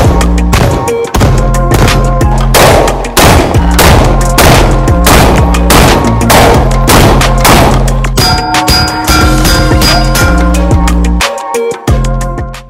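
Rapid semi-automatic gunshots from a short-barreled Battle Arms Workhorse 5.56 rifle at an outdoor shooting range, a loud, steady string of sharp cracks with ringing metallic pings and a few pauses, no talking.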